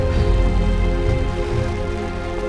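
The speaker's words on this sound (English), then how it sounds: "The rains have opened up." Heavy rain pours steadily across a Hong Kong hiking trail, a dense, unbroken hiss of loud, close drops falling alone without any voices.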